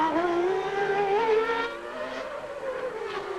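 Ayrton Senna's 1990 Formula 1 car on a qualifying lap at the Australian Grand Prix, its high-pitched engine screaming loud and close, rising then easing in pitch through a corner with no voices over it.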